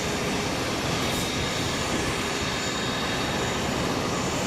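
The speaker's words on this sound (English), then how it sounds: "That's a 757." Boeing 757 freighter with Rolls-Royce RB211 engines passing at King County International Airport, Boeing Field: a steady, loud broadband engine roar filling the whole clip without letup.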